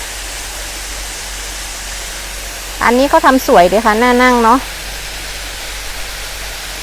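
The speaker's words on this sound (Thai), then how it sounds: "นี่น้ำตกของเรานะคะ" A waterfall beside a hillside cafe at Doi Saket, Chiang Mai, gives a steady broadband rush of falling water throughout, with someone speaking briefly over it midway.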